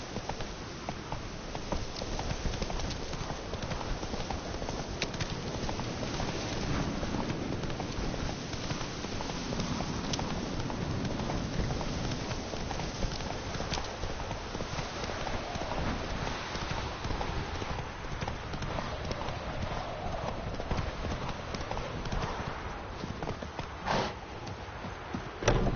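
Horse hooves clip-clop steadily in a video game, a continuous rhythmic patter of hoofbeats close by with no talk over it.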